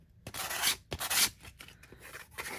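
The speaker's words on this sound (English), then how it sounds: "So that's what I'm trying to sand off." Sandpaper rubs over rough laser-cut wood on a wooden calendar piece in a series of about five short, close scratchy strokes, separated by brief quiet gaps, with no talk.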